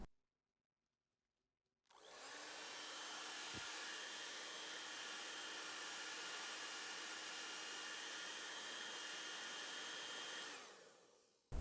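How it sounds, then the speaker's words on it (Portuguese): After a short silence a hair dryer switches on and blows steadily on thin synthetic fabric for about eight seconds, a loud, close, continuous whoosh that winds down at the end, with no talking. "Agora eu vou vir com o secador."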